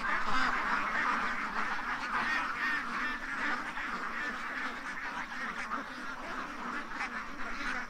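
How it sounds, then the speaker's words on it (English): Ducks quack loudly and continuously from close by at a back deck, a dense, agitated chorus of overlapping calls with a goose-like honk now and then, and no pauses. "Ducks!"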